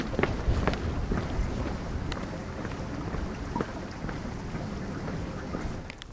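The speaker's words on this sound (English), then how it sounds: "Well, it's raining." Rain falls steadily in the High Sierra backcountry, a dense outdoor patter with wind gusts buffeting the microphone; no talking, continuous and moderately loud throughout.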